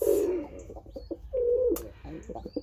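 Throaty, rolling coos from pigeons in a loft displaying at one another, several close bursts in quick succession with short pauses and a couple of thin peeps in between.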